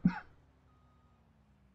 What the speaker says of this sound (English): apologize for that cough.